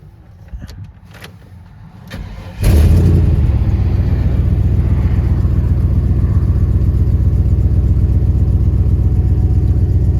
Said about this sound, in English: Let it sit and idle, and then we'll go on to step 3 once the truck warms up.